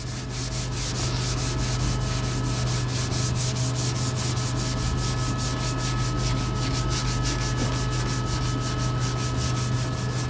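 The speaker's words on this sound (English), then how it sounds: "Just letting the sandpaper do all the work." Rapid, rhythmic rasping strokes of a sandpaper block rubbing back and forth over car primer, steady and close, with a low hum underneath.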